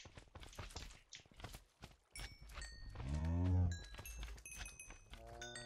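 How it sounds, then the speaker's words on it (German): Minecraft cow mooing in a modded game world, a drawn-out low moo rising in the middle amid footsteps and clip-clop game sounds. "Ich höre schon wieder eine Kuh."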